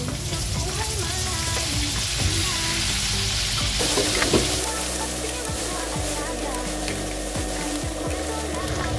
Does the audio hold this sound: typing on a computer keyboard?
no